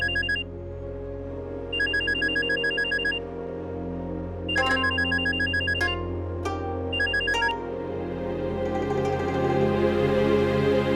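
A telephone rings in repeated bursts, loud and close, over a low background hum that grows noisier toward the end.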